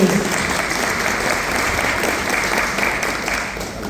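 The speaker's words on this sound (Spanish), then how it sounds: "Un aplauso a los dos, a los tres." A ceremony audience gives dense, sustained applause for honourees, loud and even throughout, with a slight fade near the end.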